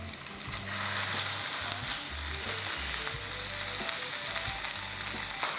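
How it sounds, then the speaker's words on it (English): Slices of SPAM luncheon meat frying over medium heat in a pan with no added oil, a close, continuous crackling sizzle with occasional faint clinks of a utensil, no voices. "Over a medium heat, fry the luncheon meat till it's crispy on both sides."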